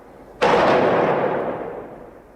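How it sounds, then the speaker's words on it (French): A single sharp gunshot blast indoors in an apartment building during a police shootout, loud and sudden, with a long echoing decay that rings and fades over about two seconds. "Les échanges de coups de feu vont durer environ 30 secondes."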